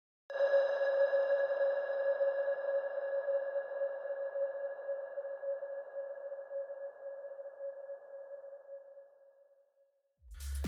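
A synth transition effect run through Fruity Reverb in FL Studio with maxed size and decay, low diffusion and a 15% dry level: one long sustained tone that holds steady for about ten seconds, then slowly fades into a low thump at the end.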